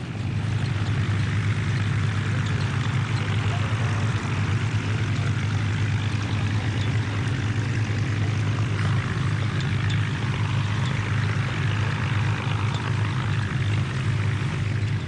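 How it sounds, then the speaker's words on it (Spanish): Rolls-Royce piston engines of a WWII fighter plane such as a Hurricane or Spitfire give a continuous, loud propeller drone with a deep steady hum. It runs unbroken from start to finish with no voices. "Esos motores Rolls-Royce suenan como música."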